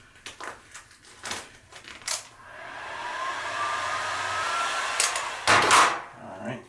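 A heat gun blowing on vinyl wrap over a motorcycle helmet, preceded by handling knocks and crinkles, then a steady rising airflow roar lasting several seconds, close and loud, with sharp thumps near the end.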